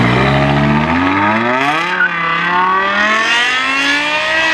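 A BMW M5 with its competition-derived V10 engine revs hard and close, pitch climbing in a smooth surge, dipping briefly, then rising again in a loud, high-pitched howl.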